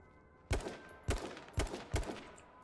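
Gunfire in the video game H1Z1: King of the Kill, four sharp, loud shots spaced roughly half a second apart, each with a short decaying tail, and no talking.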